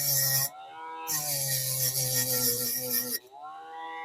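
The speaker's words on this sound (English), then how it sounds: "so I'm going to have to grind that down." A rotary grinding tool works down a model railway rail piece with a high-pitched, whining grind that starts, cuts out, returns, then drops to a lower idle whine.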